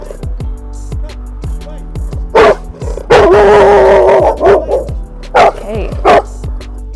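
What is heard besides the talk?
black pit bull dog barking at a dog park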